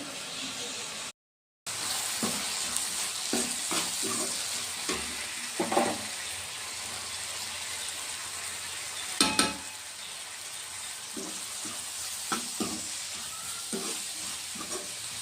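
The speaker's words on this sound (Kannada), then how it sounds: "ಒಂದು 2 ನಿಮಿಷ ಚೆನ್ನಾಗಿ ಫ್ರೈ ಆಗಲಿ ಎಣ್ಣೆಯಲ್ಲಿ" Tomato masala with chilli powder, garam masala and turmeric fries in oil for paneer bhurji, a steady sizzle with intermittent stirring scrapes and a brief silent gap near the start.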